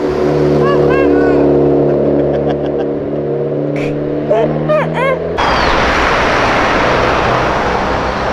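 A Ferrari comes in downshifting, its engine note droning and shifting through a few gear changes with voices nearby. A loud, broad roaring rush then takes over for the last few seconds.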